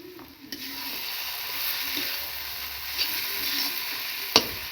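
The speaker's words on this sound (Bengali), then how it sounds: "ভালো করে নেড়ে চেড়ে নেব।" Sliced onions with poppy seed paste and dried chilli powder sizzle in a pan while being stirred, a steady close frying hiss with a few soft scrapes and a sharp clink near the end.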